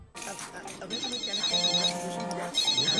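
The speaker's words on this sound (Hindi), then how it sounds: "फोन उठाओ" Telephone ringing in a Hindi television advert, a bright electronic ringtone repeating in bursts over background music, with voices talking around it.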